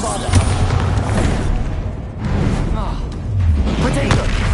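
Booming blasts of the Bombarda explosion spell in Hogwarts Legacy, several heavy thuds with whooshing bursts spread across a few seconds amid battle noise.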